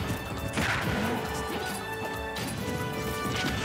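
Snake's grenades go off in Super Smash Bros. Ultimate during a tournament match against R.O.B., a string of loud, close crashing blasts layered over busy in-game effects across the whole stretch.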